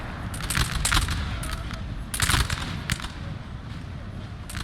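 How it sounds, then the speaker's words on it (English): Artillery fire in a Napoleon Total War 3 video game battle at Friedland sounds as rolling, crackling bursts of cannon and musket fire, two heavier volleys standing out over a continuous rumbling battle din. "Now we have artillery coming in."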